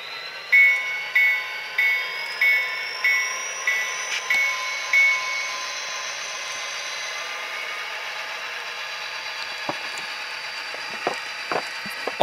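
Athearn SD40T-2 model locomotive in Denver & Rio Grande Western #5348 livery, fitted with a Tsunami sound decoder, runs with a steady diesel engine drone and whine, a string of repeated horn-like toots early on, then a few clicks and clacks toward the end.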